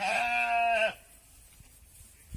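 A sheep on a farm in Kalasin lets out one loud, wavering bleat lasting just under a second, close up, followed by quiet rustling and a faint knock.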